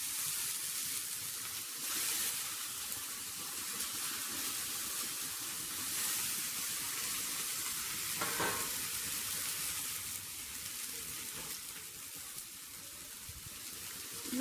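Potatoes go into a hot pan with three tomatoes for a soyabean kofta curry, giving a steady loud sizzle of frying with occasional stirring scrapes throughout.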